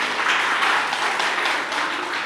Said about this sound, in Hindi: एक बार जोरदार तालियां बजाएं तो मैं शुरू हो जाऊँ।